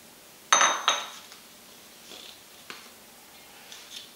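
A spoon clinks twice against a pot while salt pork and onions are stirred into beans for baked beans, followed by a few faint scrapes and soft knocks in a quiet room.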